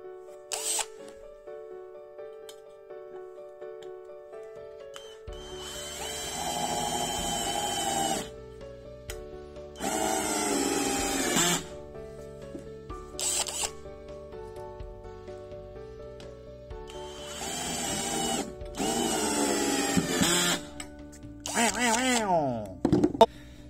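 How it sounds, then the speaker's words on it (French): A power drill drives screws to fix a metal stud in place while putting up a partition wall, with several loud whirring bursts of a few seconds each separated by pauses, over a faint background tone. "On va aller le visser."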